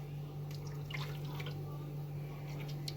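Oil being poured into a blender jar, a soft trickling splash over a low steady hum.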